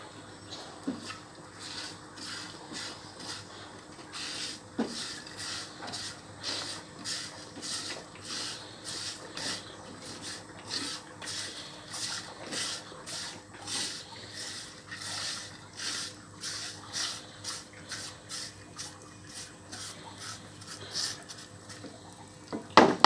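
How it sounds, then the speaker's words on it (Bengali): Garlic cloves, black cumin and green chilies frying in pure mustard oil, giving a steady soft sizzle with repeated light scraping and clinking of a utensil against the pan throughout, with no voices. "এবার সরিষার তেল দিয়ে, খাঁটি সরিষার তেল দিয়ে সুন্দর করে ভেজে নেব"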